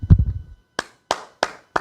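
Four crisp, separate hand claps ring out at a slow, even pace after a short low thump, sounding close and isolated rather than like a full crowd.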